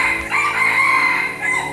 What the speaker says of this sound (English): Even the roosters are cheering me on.